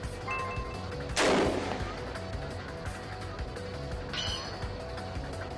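Gunfire in the Noel the Mortal Fate video game: a single sharp, loud shot bursts out early against a quiet game background, followed later by a fainter tonal cue.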